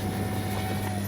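Arrows 50mm Viper small electric ducted-fan RC jet passing fast overhead, a quiet steady whine and hum with no talk.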